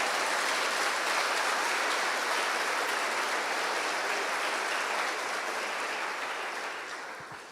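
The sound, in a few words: church congregation applauding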